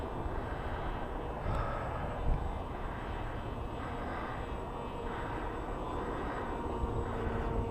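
An FX-61 RC flying wing with an electric motor buzzes overhead in test flight, a steady drone mixed with wind noise that swells and fades in gentle pulses.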